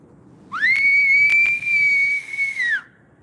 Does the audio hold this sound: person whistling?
yes